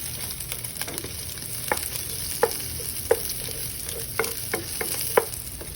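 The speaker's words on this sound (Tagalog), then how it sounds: "we let this bacon cook first. Look at that bacon." Bacon fries in a pan for a bacon-with-spinach dish, a steady close sizzle under sharp scrapes and clicks of a utensil stirring every second or so, with no talking.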